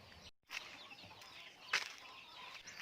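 Chickens on a farm cluck faintly in the background, with a brief flurry of wing flapping and one sharper squawk midway, the sound distant and low against a quiet outdoor ambience.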